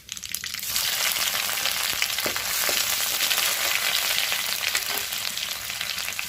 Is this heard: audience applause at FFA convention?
no